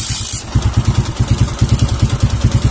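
A Kawasaki KLX 150 motorcycle engine fires up and settles into a loud, close idle with a pulsing, uneven chug after a short hiss at the start.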